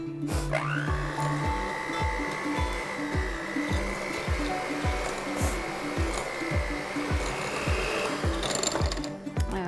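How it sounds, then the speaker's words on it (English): A hand mixer creams packed brown sugar and granulated sugar in a bowl. A close, steady motor whine runs almost the whole time over a rhythmic thumping of the beaters, with no talking. "I'm just gonna cream this together with my hand mixer."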